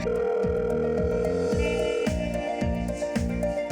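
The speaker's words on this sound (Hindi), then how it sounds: "सुनिए, सुलेमान का फोन है।" A telephone rings in a steady repeating electronic pattern, loud and close, with no voices over it.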